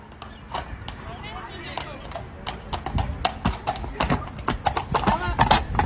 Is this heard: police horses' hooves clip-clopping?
yes